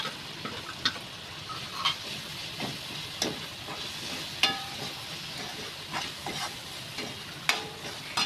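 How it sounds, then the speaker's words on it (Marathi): Red chilli powder, turmeric and other ground spices frying in oil for a cluster bean dish, a soft hissing sizzle with periodic clicks and scrapes of a stirring spoon, quiet and close. "मसाले तेलामध्ये फ्राय करून घ्यायचे."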